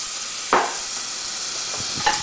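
Half a tablespoon of garlic frying in a pan as the start of an au jus, a steady broadband sizzle with two brief stirring scrapes, close and alone.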